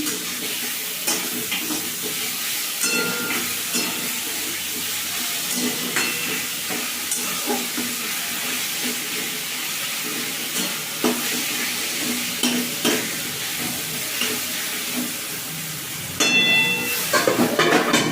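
A Bengali village curry with coconut milk powder and green chillies is stirred and sautéed in a pan, giving a loud steady sizzle with repeated scraping strokes and a burst of spatter near the end.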